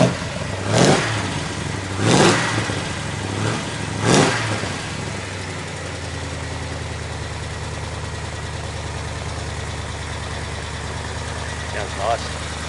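A Holden CV8 Monaro V8 running without a catalytic converter gives three sharp revs in quick succession, each blip rising and falling, then settles into a steady low idle rumble close by.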